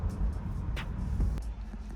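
Four-cylinder engine of a 2020 BMW 330i heard from inside the cabin with the windows closed, a steady low rumble with faint road noise and brief higher swells.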